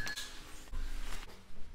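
A knife chops kale and other vegetables, including red pepper, on a board, producing a quick, irregular series of close, sharp clicks and thuds with light clinks, with no talking.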